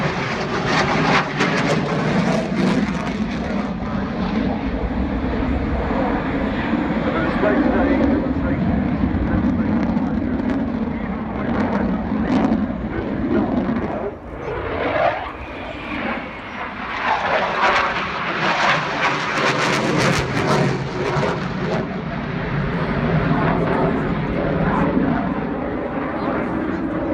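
A Eurofighter Typhoon jet performs a display at the Farnborough air show under low cloud, its engine roar loud and continuous, swelling and dipping as it passes, with a commentator talking over it.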